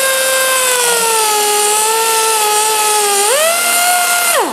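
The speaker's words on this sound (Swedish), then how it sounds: "Sen har vi även en slipmaskin som visar också." A small belt sander grinds wood with a loud, close, high-pitched motor whine. The pitch sags under load, rises sharply near the end, then spins down, with no talking over it.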